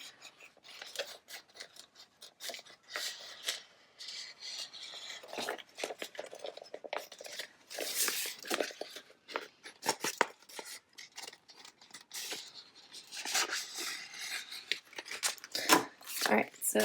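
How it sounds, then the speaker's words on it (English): Scissors snip repeatedly through excess heat-transfer vinyl on a craft project, quick close crisp cuts in irregular bursts with soft rustling of the sheet between them. "now I'm just going to trim off this excess"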